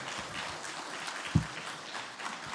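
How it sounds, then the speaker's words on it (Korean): A church audience applauds during a parents' and teachers' seminar. The clapping is soft and steady throughout, with one sharper thump in the middle. "우리 박수 한번 주세요."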